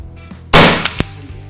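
A single sharp, loud report comes from an Effecto Spark Mini 5.5 mm regulated PCP air rifle fired at about 175 bar, followed by two quick faint ticks as it dies away.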